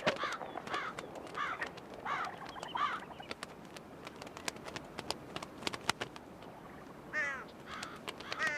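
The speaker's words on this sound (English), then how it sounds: "there are plenty of other crows to annoy" Crows caw repeatedly in the Korean DMZ, harsh calls arriving in several bursts, some overlapping, at moderate distance over a noisy outdoor background.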